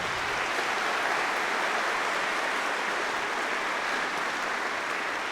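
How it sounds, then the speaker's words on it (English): Audience at a middle school region band concert applauds in a sustained, even wash of clapping that holds steady and fairly loud from start to finish, with no voices over it. "let's give them a big round of applause for their efforts"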